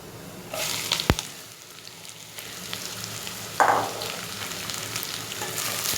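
Whole dried chillies and bottle gourd hit hot oil in a pan, a sharp clack, then a steady frying hiss with a short spatter burst midway, close up and with no speech.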